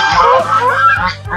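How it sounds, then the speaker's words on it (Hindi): Ducks kept in a cage on a farm give close, loud, nasal honking quacks that overlap continuously for the whole moment. "देखते हैं मजीद डक्स यहाँ पे।"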